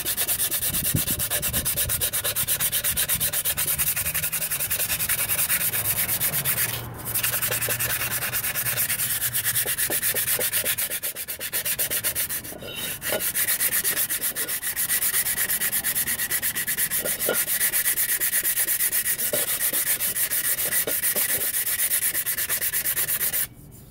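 Emery cloth sands brake parts smooth in a continuous, harsh rubbing scrape, close and loud, with brief pauses around the seventh and twelfth seconds before steady strokes resume until a sudden stop near the end.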